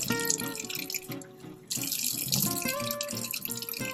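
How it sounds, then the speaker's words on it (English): Tap water runs steadily into a sink while a face sugar scrub is rinsed off with cold water. The stream is close and continuous, with splashing that changes as hands move under it, and there is no talk. "just move it to really, really, really cool and rinse it off with cold water"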